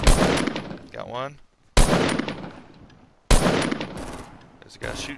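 Bursts of gunfire in a Fortnite squads match, three sharp loud onsets each trailing into rattling shots and echo, separated by brief gaps, with players talking between them.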